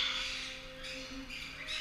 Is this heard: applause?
no